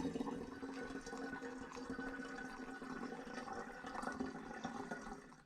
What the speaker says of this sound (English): Right, I need to let all this siphon through.